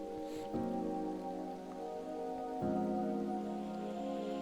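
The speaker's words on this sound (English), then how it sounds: "the sound of the rain, even though it was white noise, it is still being used as an instrument" Rain-like white noise is layered as an instrument in an electronic track, a soft hiss under sustained, swelling synth chords.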